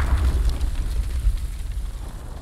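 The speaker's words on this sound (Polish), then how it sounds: "Ale strzał! Ale strzał!" A tank's main gun fires in the World War II shooter Hell Let Loose on the Sainte-Marie-du-Mont map, leaving a deep, rolling boom that rumbles and slowly fades with no voices over it.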